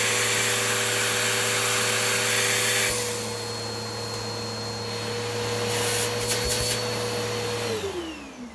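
A Bissell PowerForce Turbo Rewind upright vacuum runs loud and steady with a Dyson turbine tool fitted, its motor drone shifting partway through and winding down near the end.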